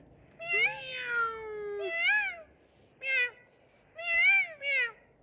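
A cat meows several times, drawn-out wavering cries in a sequence of calls with short pauses, close and clear over faint background noise.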